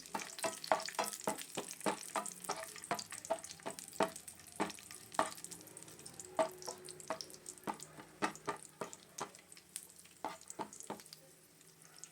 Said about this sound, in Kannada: ಅದೇ ತುಪ್ಪಕ್ಕೆ ಹಾಕೋತಾ ಇದ್ದೀನಿ ದ್ರಾಕ್ಷಿನ ಆಗ ದ್ರಾಕ್ಷಿ ಹಾಕೊಂಡು ಫ್ರೈ ಮಾಡ್ಕೊತೀನಿ